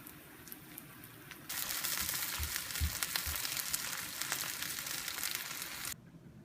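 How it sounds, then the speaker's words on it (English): Sourdough grilled cheese sandwiches hit hot olive oil in a pan with a sudden loud sizzle that crackles steadily for several seconds, then cuts off abruptly, with a few soft bumps as they settle. "we're just going to take these sandwiches and fry them in the olive oil"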